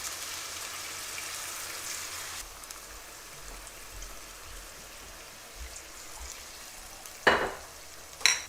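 Chicken, garlic and cooking wine simmer in a hot pan with a steady soft sizzle and bubble. Near the end come two brief louder clatters.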